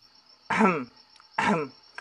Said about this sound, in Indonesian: Puntuk berdehem berkali-kali sebagai kode kehadirannya.